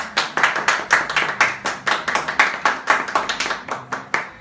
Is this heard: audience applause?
yes